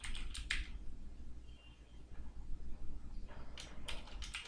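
Typing on a computer keyboard while writing Python code, quick clusters of close key clicks separated by a short quiet pause, fairly faint and with no speech.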